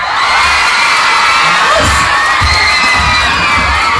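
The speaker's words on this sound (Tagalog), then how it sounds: "Magpalakpakan na may kasamang sigawan." A crowd at a Cavite town fiesta performance clapping and shouting, a dense, loud roar of cheers and whoops that stays constant from start to finish.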